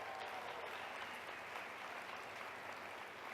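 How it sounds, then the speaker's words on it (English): An audience applauds during a business training session, giving a continuous, even roar of clapping that is full and sustained for the whole stretch. "Let's get one more round of applause for Cynthia."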